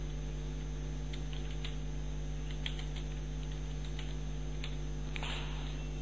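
Sparse, light clicks from a computer keyboard tap out a few short bursts of typing, faint and close, over a steady mains hum.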